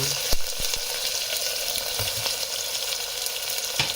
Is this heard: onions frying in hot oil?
yes